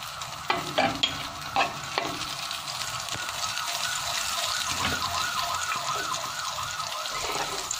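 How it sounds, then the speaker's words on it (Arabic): Calamari fries in butter in a pan for a fish pastilla, a steady close sizzle with a few sharp clinks of a utensil near the start and light stirring scrapes throughout. "دابا البنات غادي ندير الزبده باش غادي ندير الكالامار"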